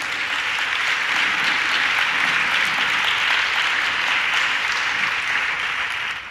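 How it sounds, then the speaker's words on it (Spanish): A church congregation applauding to the glory of God, dense and loud sustained clapping from many people that fills the space evenly and fades only at the very end. "Dele un aplauso a la gloria de Dios."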